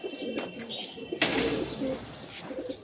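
Pigeons kept at a home loft of high-flying birds give soft, low coos nearby, with a sudden rustling burst midway through the short stretch.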